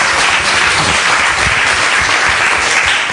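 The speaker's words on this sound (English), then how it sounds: "give me a round of applause" A roomful of people at an evening discovery-slam event clapping for several seconds, loud, dense and even, with a faint murmur of the crowd under the hands.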